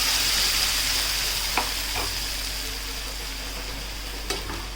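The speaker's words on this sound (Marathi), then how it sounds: "आता आपण जे वाटण केलं होतं ते वाटण यामध्ये मिक्स करून घेणार आहोत" Green masala paste being stirred into frying onions for Konkan-style green chicken, a steady sizzle with a few soft spoon scrapes and taps against the pan, close and continuous, no talking.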